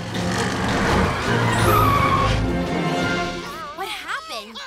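A cartoon car revs and speeds away with tires squealing and skidding. The loud roar and whine fill most of the moment, then fade as a character's voice comes in.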